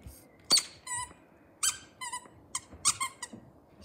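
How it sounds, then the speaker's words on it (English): A squeaky unicorn toy's head squeaks repeatedly in short, high, irregular bursts, close and fairly loud against a quiet background. "But it squeaks, its head squeaks."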